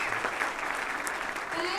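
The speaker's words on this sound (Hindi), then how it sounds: "एक बार खड़े होके गुरुजी का हम धन्यवाद करेंगे, एक बार जोरदार तालियों के साथ" A crowd at a grand product-launch event claps steadily and loudly for their guru, the dense applause continuing throughout with a voice speaking over it.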